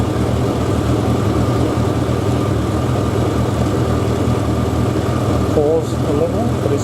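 A Suzuki 1100G motorcycle engine idles steadily after starting, a continuous low rumble that runs loud and even throughout, with a brief voice near the end.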